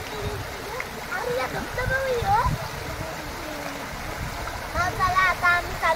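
A waterfall at a dam pours with a steady broad rush, heard under people talking and calling out nearby throughout.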